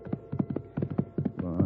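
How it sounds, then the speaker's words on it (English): Horse hooves clip-clop in a steady, even rhythm as a radio drama sound effect in a Western, close and moderately loud, with a short snort or whinny near the end. "I dug my heels into my horse and rode to where he had fallen."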